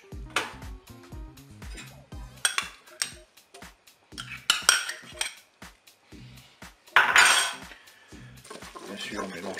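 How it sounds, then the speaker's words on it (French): Metal utensil clattering and scraping against a Cookeo multicooker pot while ham cubes and crème fraîche are stirred into spaghetti, with repeated irregular clinks and scrapes, loud and close, and a few sharper bursts. "bien sûr on mélange les ingrédients"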